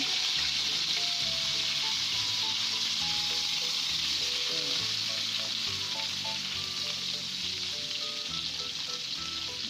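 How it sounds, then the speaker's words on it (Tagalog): Skin-on chicken pieces for honey garlic chicken frying in a pan, a steady close crackling sizzle that holds throughout with scattered spattering pops and no talk. "So yan na, fry na sila."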